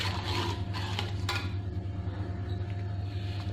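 A spoon stirs custard powder jelly in a pan over a low flame, with soft scraping and a few brief clinks against the pan over a steady low hum.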